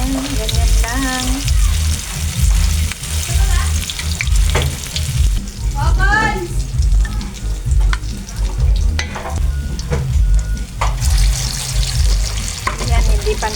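Onions fry in a pan with a continuous bright sizzle and scraping stir strokes, close and loud, while a voice speaks intermittently over the cooking.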